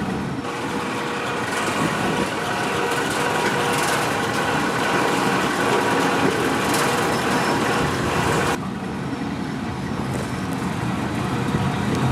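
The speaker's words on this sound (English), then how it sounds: "Vulcan sorting systems, Trommel screen with feed conveyor and metering wheel." A Vulcan trommel screen with feed conveyor and metering wheel runs with a continuous loud mechanical rumble and broadband rattle, then drops to a slightly quieter, smoother hum near the end.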